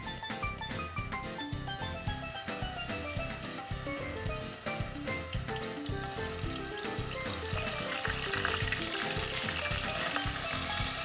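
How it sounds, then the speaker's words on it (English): Beef pieces browning in a hot pan give off a steady, dense sizzle and crackle for the whole stretch, with clinks and stirring on top and some music or tones underneath. "we're just going to brown the beef piece by piece"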